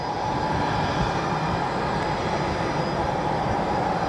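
An American Airlines Boeing 737-800 arriving at Chicago O'Hare from Dallas–Fort Worth produces a steady, broad jet roar heard from a distance, even in loudness throughout.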